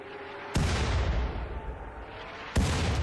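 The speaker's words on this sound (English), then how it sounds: "Anyway, we have mortars coming in." Incoming mortar shells in the colony game RimWorld, two heavy booming impacts about two seconds apart, each followed by a rumbling roar that lingers and fades, loud and close with no speech.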